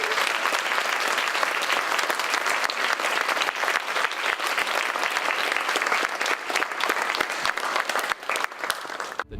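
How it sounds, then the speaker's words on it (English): An audience at a student veteran conference gives a sustained round of applause, a dense, steady clatter of many hands clapping that carries on for several seconds before starting to thin near the end. "let's give a round of applause."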